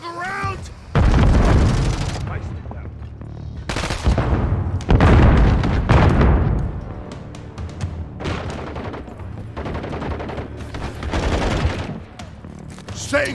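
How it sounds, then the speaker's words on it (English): Stun grenade blasts and heavy gunfire in a Call of Duty MW3 team deathmatch on the Skidrow map, with loud repeated booms and bursts coming close together, and voices underneath. "Throwing stun grenade!"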